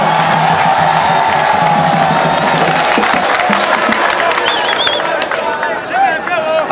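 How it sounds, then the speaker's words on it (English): A large outdoor crowd at a political rally claps, cheers and whoops loudly and continuously, with shouting voices and a whistle-like tone rising over the din. "give a loud clap to God."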